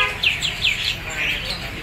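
A jalak putih, the white starling, gives a run of short, bright chirping calls close by at a quick, uneven pace, with faint background noise from a bird shop.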